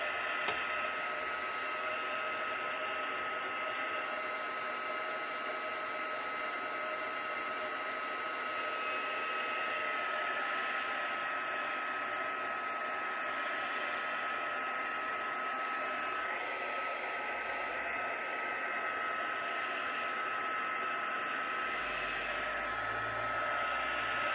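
A heat dryer blows steadily over an inked mixed-media craft background, its loud, close, continuous whine and airy rush holding for over twenty seconds with slight wavering as it moves.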